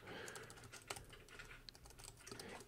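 Rapid keystrokes on a computer keyboard while entering JavaScript code, a steady irregular patter of close, quiet clicks running throughout with no talking.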